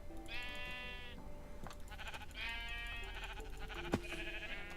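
Minecraft sheep bleating in the video game, three drawn-out wavering bleats spaced about a second apart, clear and close over a low steady background hum, with a short sharp hit near the end.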